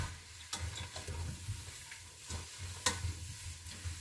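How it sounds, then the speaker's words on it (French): Leeks and onions sizzle in a little olive oil on the stove for minestrone, with a steady close frying hiss broken by several sharp scrapes and clinks as a spoon or spatula stirs the pan. "Vous avez vos poireaux et vos oignons avec un petit peu d'huile d'olive sur le feu. Et on va faire revenir pendant 5 minutes"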